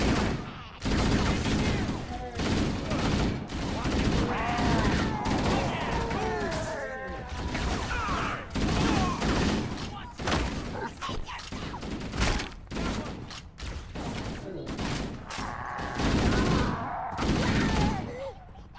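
Rapid bursts of gunfire in Halo fill the stretch, dense repeated shots in volleys with shouted voices mixed in.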